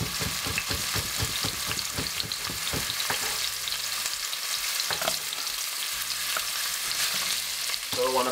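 Chopped carrot fries in a pan for a vegetable dish, a loud, continuous close sizzle with rhythmic scraping stirs early on, then a steadier hiss, and no one speaking.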